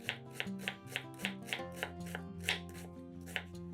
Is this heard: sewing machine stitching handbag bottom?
no